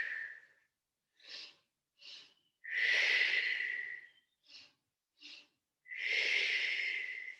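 Breathing during a leg-kick exercise: a pattern of two short sharp sniffing inhales, then one long forceful exhale, repeated twice. The sounds are close and clear, with quiet pauses between them.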